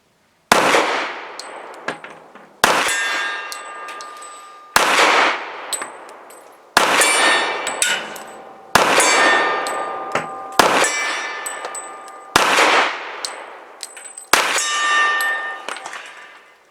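Eight evenly spaced pistol shots from a Smith & Wesson M&P 2.0 Compact .45, each followed by a loud ringing clang of a steel target at 50 yards that sustains until the next shot.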